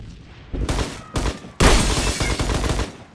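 Heavy gunfire from a Roblox Phantom Forces match: loud, dense bursts of rapid shots come in waves, with a sharp, louder volley about halfway through that keeps rattling to the end.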